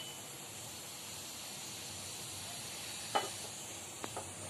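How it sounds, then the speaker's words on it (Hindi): Mustard oil poured into a hot kadai, a soft continuous sizzle and hiss with a couple of sharp ticks and spatters near the end. "कढ़ाई गर्म हो गई है, अब इसमें हम थोड़ा सा तेल, 2 चम्मच के बराबर तेल डाल देंगे।"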